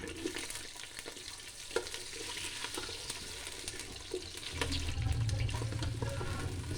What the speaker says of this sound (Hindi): इस तरह इसके फ्लावर्स को हम फ्राई कर लेंगे।